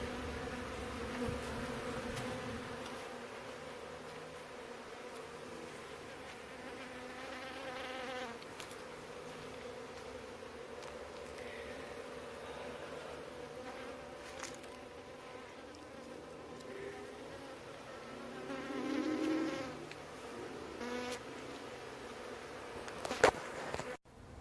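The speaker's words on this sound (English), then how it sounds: "here's the view from my patio looking at these bees" Honeybees buzz around an aquarium hive seen from a patio, a continuous soft drone of many insects with individual bees passing closer now and then. The scene is fairly quiet otherwise.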